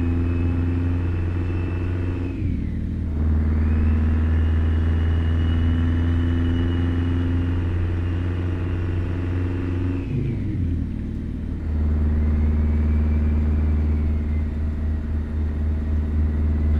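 A Chevy Bison truck's engine drones steadily in American Truck Simulator, a deep constant rumble that dips twice as gears shift, then settles back into a loud even hum.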